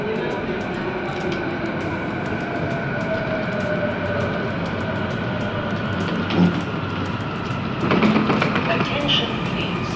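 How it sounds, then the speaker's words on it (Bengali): A Delhi Metro train arrives at a station: a faint, steady mechanical hum with tonal whine and rising rumble toward the end, under a busy platform ambience with people talking. "আসছে ট্রেন"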